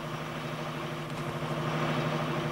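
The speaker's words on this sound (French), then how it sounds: "ausculte régulièrement son moteur." A fishing boat's engine runs steadily, its loud, even drone holding a strong low hum throughout with no pauses or speech.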